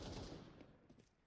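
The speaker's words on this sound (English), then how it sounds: "Mao's able to bait some gunfire towards it" Rapid gunfire in Counter-Strike 2 during a professional esports match, a quick burst of shots at fairly low level, close together, ending with a sharper final crack.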